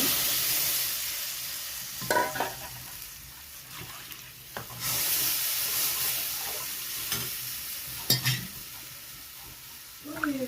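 Mixed gram flour batter for pithla poured into a fried tempering with curry leaves, a soft steady sizzle in the pan with occasional clinks and scraping of a spoon stirring, no talking heard.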